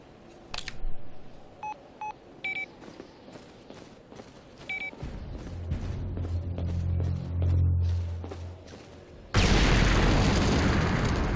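A C4 charge detonates in the shooter game Dark Sector, a sudden loud broadband blast that cuts in near the end after scattered beeps, clicks and a low rumbling drone, then holds as a sustained roar.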